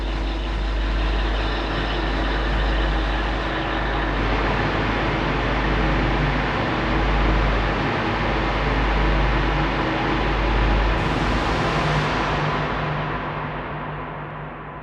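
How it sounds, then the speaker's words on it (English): Dense white-noise atmosphere built in Ableton Live with reverb for psytrance, a loud continuous broadband hiss with a low rumbling layer, its brightness shifting slightly partway through before the top end tapers off at the close. "So as you see, we have already like kind of white noise making this sound."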